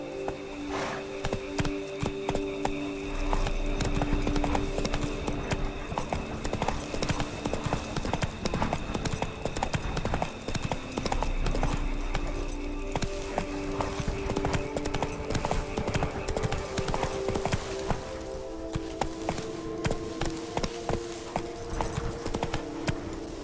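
Roach's hooves clip-clop steadily from The Witcher 3, a continuous rhythmic patter running the whole time over a busy bed of game music and ambience, with an occasional faint voice.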